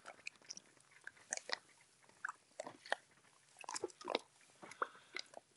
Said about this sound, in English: he's still munching away at that worm